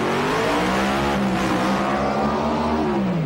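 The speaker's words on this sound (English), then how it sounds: "John Cannon breaking the tyres loose in the Pro Street Tirana" A 1980s Pro Street Torana drag car revs hard and breaks its rear tyres loose, a loud, continuous engine roar with rising pitch and tyre noise at close range, no talk over it.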